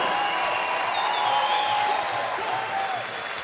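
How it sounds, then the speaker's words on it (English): Audience applause for two fighters at a 68kg combat sports event, a steady wash of clapping and crowd noise that fills the hall and fades slightly toward the end, with a faint announcer's voice underneath. "A round of applause for these two fighters."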